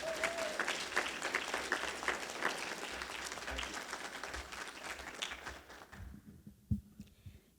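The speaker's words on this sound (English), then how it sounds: "let's give them another round of applause" An audience at a community appreciation event gives a sustained round of applause, dense clapping that continues for several seconds before fading into a quiet room with a few scattered knocks.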